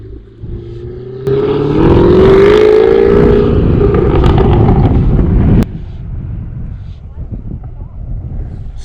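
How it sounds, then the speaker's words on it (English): An engine exhaust revs loudly close by, a rising, roaring burst that holds for several seconds with wind buffeting the microphone, then cuts off to a lower rumble as people talk. "So we could hear his exhaust, Gail."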